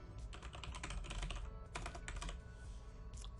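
Quiet, rapid typing on a computer keyboard, a steady stream of light clicking keystrokes with one short pause, heard up close and alone.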